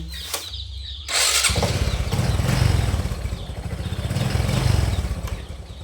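A motorcycle, repaired after its electrics failed and it would not start by kick or electric starter, starts up around the first second and then runs with a steady, close, loud chugging engine rhythm. No speech is heard.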